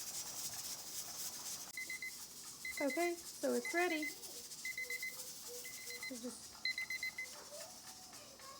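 Electronic kitchen timer giving several short, steady beeps in a home kitchen while beef is pressure-canned, with a person talking between and over the tones and a constant hiss of background noise.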